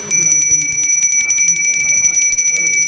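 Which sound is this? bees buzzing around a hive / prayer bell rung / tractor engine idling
prayer bell rung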